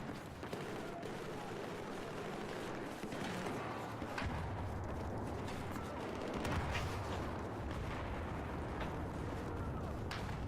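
Naval deck gun firing in Battlefield 4, heavy booming blasts and crackling shots layered over a constant battle rumble, several distinct thumps spread through the stretch, moderately loud and without talk.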